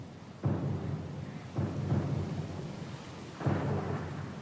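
A thunderstorm rolls at sea in Pillars of Eternity 2, steady rain layered with three deep thunder rumbles that swell at intervals, heavy and close, with no voices.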